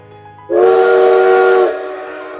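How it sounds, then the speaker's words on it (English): A steam locomotive whistle from the Ro Scale Central Railroad game, using South Simcoe engine number 136's chime, sounds as a single loud, steady multi-tone blast of about a second, trailing into hissing steam. "Most steam engines in Roscale Central use South Simcoe's engine number 136 whistle."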